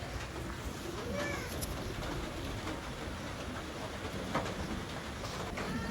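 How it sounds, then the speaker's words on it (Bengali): A pair of abluk pigeons gives low, soft coos against a constant noisy background rumble. The calls are faint and partly masked. "এক জোড়া আবলুক পায়রা"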